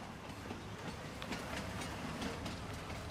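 A train rolling along in Farming Simulator 19 on the Erlengrat map gives a steady low rumble with faint rhythmic clickety-clack from the wheels, moderately loud and continuous, with no talk over it.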